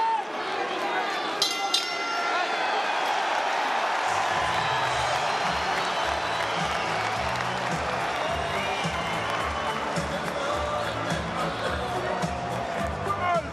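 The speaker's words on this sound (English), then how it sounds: "Kambosos gets the crowd on their feet here in Melbourne" A Melbourne boxing crowd rises for local fighter George Kambosos Jr. in round eight of his rematch with Devin Haney, a loud, sustained arena roar of cheering and applause that swells and keeps going, with a commentator talking over it.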